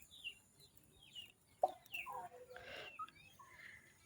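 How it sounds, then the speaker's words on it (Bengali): Village chickens pecking at paddy grain, with soft scattered clucks and short calls, faint and fairly close, plus a sharp knock partway through. "আর এই যে মুরগিতে ধান খাইতেছে।"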